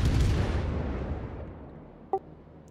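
Naval gunfire in the World of Warships video game during a clan battle: a heavy, booming salvo that rumbles and slowly fades. A brief small pop comes near the end.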